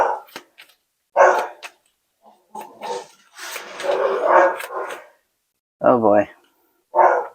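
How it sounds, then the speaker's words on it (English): A dog barks and yelps in short, uneven bursts during a scuffle with cats, with a person briefly speaking between the outbursts. "There's a fight between the dog and the cats."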